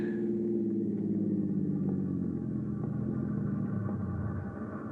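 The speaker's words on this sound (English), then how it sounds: "That's it, the train." A train approaches in a radio drama sound effect: a heavy, low rumble swells and holds steady, loud and close, then eases slightly toward the end.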